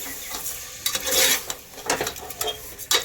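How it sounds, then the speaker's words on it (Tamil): Pieces of mutton tossed into a hot pan with salt and stirred for a gravy, a steady sizzle under scraping and clinking of a spoon against metal, no talking. "இப்போ கறி போட்டுடலாம். கறிக்கு தேவையான உப்பு போட்டுக்கலாம்."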